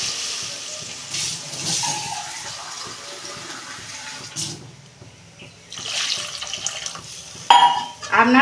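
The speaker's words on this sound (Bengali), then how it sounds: "আমি পরিমাণ মতো জল দিচ্ছি" Water poured from a jug into a pan of home-style fish curry, a steady splashing pour that rises and falls in bursts over several seconds, moderately loud and close, with no talk over it.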